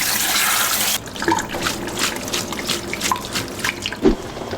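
Tripe for Guerrero-style menudo rinsed under running tap water, a steady splashing stream for the first second, then intermittent drips and wet handling sounds at close range.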